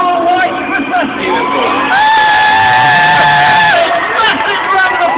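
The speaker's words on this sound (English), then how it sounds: "Massive round of applause, folks." An outdoor crowd at the Bolton Christmas lights switch-on cheers, whoops and shouts loudly, with sustained yells rising above a dense hubbub of voices.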